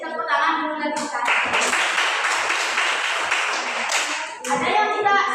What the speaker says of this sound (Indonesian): Oke, kasih tepuk tangan dulu lagi kan.